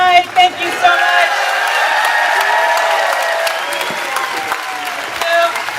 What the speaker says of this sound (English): another round of applause for all of our speakers tonight